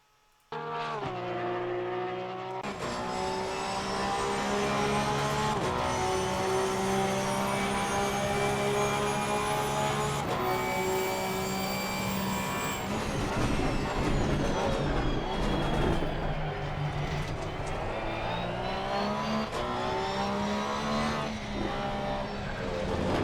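A Porsche 911 GT3 R race car laps the Nürburgring in Assetto Corsa Competizione, its engine roaring loud and continuous through repeated upshifts and downshifts with rising and falling revs, alone without talk.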